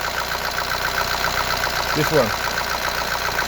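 A 2014 Chevy Equinox 2.4 engine idling roughly and shaking with its mass airflow sensor fuse pulled, a steady uneven mechanical drone with a brief lurch in the middle, heard under a man's speech.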